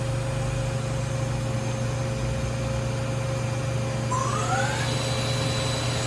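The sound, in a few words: Doosan Lynx 220LC CNC lathe spindle running at 1500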